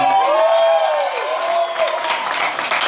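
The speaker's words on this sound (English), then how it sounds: "give him a round of applause." An audience at a live comedy show at Beauty Bar applauds a comedy entertainer, a wash of clapping mixed with sustained tonal sounds for a few seconds.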